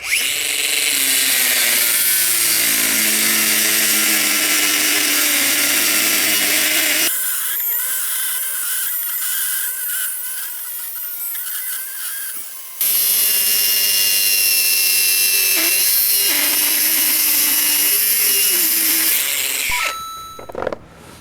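A Bosch GWX 18V-15 SC cordless angle grinder cuts through thick D25 steel rebar with a loud, high, shrieking whine. It drops to a lower grinding hum midway, then rises back to a full screech before winding down.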